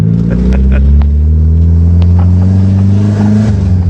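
Built, boosted 420A-powered Eclipse running low boost on a street in Mexico, its engine droning loud and close with steady rising harmonics as it accelerates hard, gear shifts breaking the pull.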